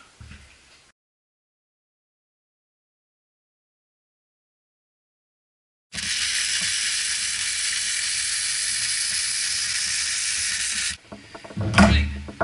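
A wire-feed welding arc on metal, run after the polarity was reversed, gives a loud, harsh continuous sizzle for about five seconds after a long silence, then stops, followed by a few clunks and handling noises.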